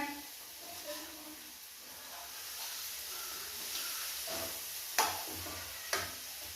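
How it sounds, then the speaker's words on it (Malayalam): Chicken dish stirred in a pan, a faint, low scraping and soft sizzle with a couple of sharper spoon knocks near the end. "നല്ലോണം ഇളക്കി കൊടുക്കണേ"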